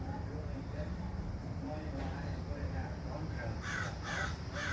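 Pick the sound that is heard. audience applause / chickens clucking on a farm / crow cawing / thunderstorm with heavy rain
crow cawing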